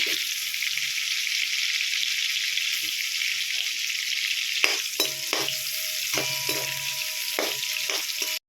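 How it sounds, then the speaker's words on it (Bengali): Oil sizzles loudly and steadily in a pan as potatoes fry, with a few clinks and scrapes from a utensil stirring them. "আলুটাকেও ভেজে নিব।"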